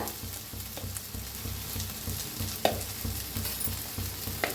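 Spices with turmeric powder roasting in a pan for a green-masala egg curry crackle in a constant close sizzle, with occasional stirring scrapes and a brief clink, no voices.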